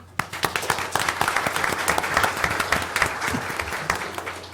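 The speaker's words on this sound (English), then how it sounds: "I'd like to give you all another round of applause." Audience applause fills a school board meeting, a dense, steady wash of many hands clapping from start to finish, moderately loud with scattered sharper claps standing out.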